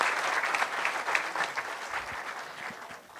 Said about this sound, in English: Another round of applause for that incredible panel.